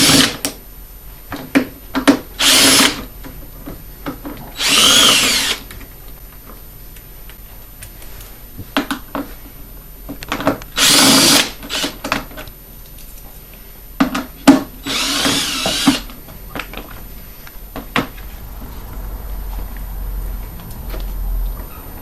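On a KTM 125sx, a power tool removes one 8mm bolt and four 6mm bolts holding the fuel tank shrouds, in several short, loud whirring bursts separated by quiet gaps with small clicks and handling noises.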